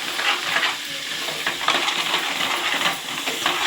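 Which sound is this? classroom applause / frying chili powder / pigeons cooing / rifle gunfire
frying chili powder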